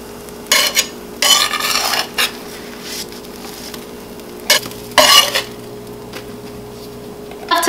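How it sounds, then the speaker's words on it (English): Pancakes cooking in a pan over a low sizzle, with several sharp bursts of a spatula scraping and flipping them, close and fairly loud. "Once you see the edges kind of bubble and turn a little white,"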